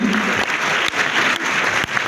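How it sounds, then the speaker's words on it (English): Audience at a counselors' induction ceremony applauding, a full, steady roll of clapping from a large crowd in a hall, continuous throughout with slight dips. "Let's give her a round of applause."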